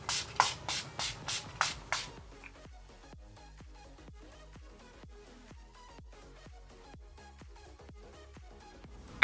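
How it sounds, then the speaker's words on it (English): Urban Decay All Nighter setting spray fires in about six quick, loud hissing bursts at the start, followed by quiet handling and shuffling noises. "I'm just going to set it using my Urban Decay All Nighter Spray."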